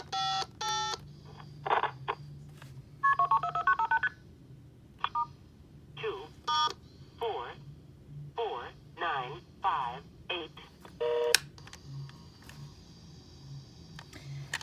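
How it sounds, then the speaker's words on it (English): Bursts of DTMF dialing tones from a Harris TS22AL telephone test set, a series of short beeps at uneven spacing, clear and close, with other line tones and faint line noise in between. "now I'm going to dial something"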